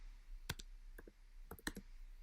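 Typing a command into a computer terminal on a keyboard: scattered, quiet key clicks in small clusters, close to the microphone, with no speech.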